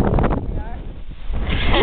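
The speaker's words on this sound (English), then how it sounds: "look at the wind just go" Wind gusting hard across a microphone while out fishing, a loud close roar that buffets and surges, with people talking over it.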